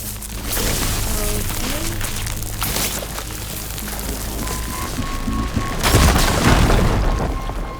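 A loud, sustained explosion from a fire gleam deposit in the Horizon Forbidden West video game, a deep booming rumble with crackling debris, peaking in a heavy blast near the end.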